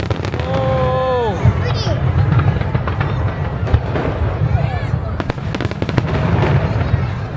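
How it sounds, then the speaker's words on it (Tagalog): A large fireworks display of some 12,000 shells over Odaiba, Tokyo, fills the scene with continuous loud crackling, popping bursts and whistling rising shells, while a crowd murmurs and voices exclaim underneath. "At natapos na yung fireworks."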